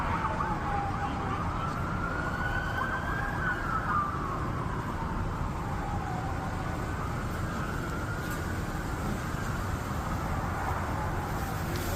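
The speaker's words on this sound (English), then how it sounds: "You can hear sirens" Wailing emergency sirens outside CIA headquarters in Langley during an armed attack and lockdown, the tone rising and falling in slow sweeps at a moderate distance over a constant street and traffic rumble, with no talk.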